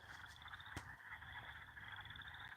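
Evening chorus of frogs in a natural outdoor setting on a warm night, a steady dense trilling and croaking that carries on continuously without pause, moderately near, with one brief sharp knock partway through.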